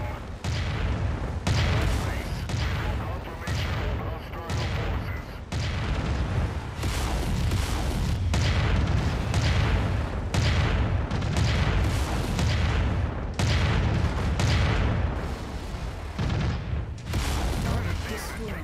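Repeated heavy explosions and booming weapon blasts from mech combat in MechWarrior 5: Mercenaries, loud and continuous over nearly twenty seconds with bursts every second or two, under a dense rumbling battle bed.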